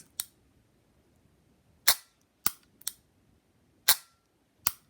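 Sharp, dry clicks from the trigger and hammer of a CZ Shadow 2 competition pistol dry-firing in double action, five or six separate snaps at uneven intervals, close and crisp against near silence.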